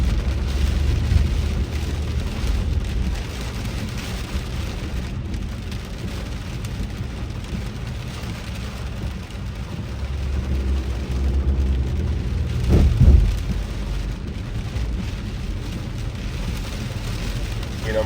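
Heavy rain pours steadily during a Pineapple Express storm, heard from inside a car driving through downtown Los Angeles, a dense continuous wash with low engine rumble and a brief louder burst near the end.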